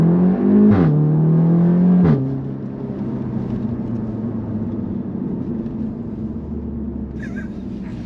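Audi S3 tuned by ABT to 400 hp, engine revving loudly up to a peak then dropping to a steady, heavy drone with a sharp pop partway through, close and dominant.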